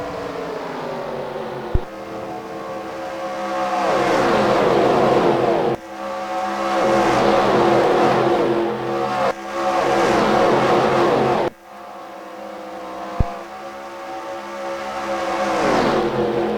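Stock car engines roar at Daytona in the NASCAR Racing 2003 video game, loud sustained revving that rises in pitch through gear changes, with several abrupt cuts and one engine swelling after another, no talking.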